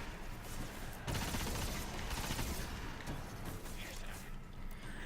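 Necrochasm exotic auto rifle firing in the Destiny video game, a dense, sustained burst of rapid gunfire at moderate volume that runs for several seconds over a steady game soundscape.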